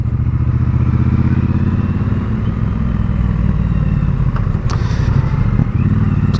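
A Triumph Bobber motorcycle rides through town, its engine a loud, continuous, throbbing rumble close by, steady throughout with slight rises in revs.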